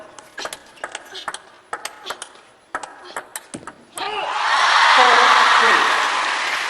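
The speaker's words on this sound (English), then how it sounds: "You can hear the crowd trying to empower Shasha." Crowd at a WTT Champions Macao table tennis quarterfinal, heard after a run of sharp ball pings and paddle hits, then swelling into loud sustained cheering and applause.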